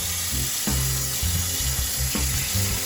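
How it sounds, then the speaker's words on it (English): Water runs steadily from a tap as foraged fiddleheads and wild leeks are rinsed, with a continuous close splashing and irregular low thumps as the greens are handled under the stream. "These are gonna need to be rinsed off"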